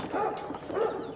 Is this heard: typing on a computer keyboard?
no